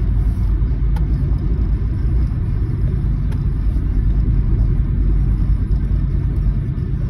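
A car goes by on a quiet road on a foggy holiday morning in Florida, a steady low rumble of engine and tyres that stays loud and close throughout, with no voices.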